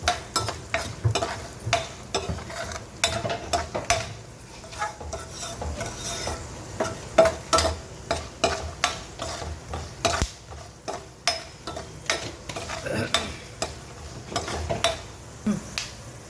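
Sharp popping and crackling as chana dal and urad dal fry in hot oil for tempering, with a steady rhythm of pops and scrapes of a spoon in a pan.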